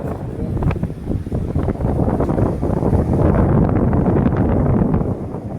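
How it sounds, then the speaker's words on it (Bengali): Breezy wind at Mahabalipuram beach buffets the microphone in a steady, loud rush throughout, with no clear voices. "বেশ হাওয়া, দিনের বেলা বেশ গরম ছিল কিন্তু এখন ফুলফুলে হাওয়া দিচ্ছে"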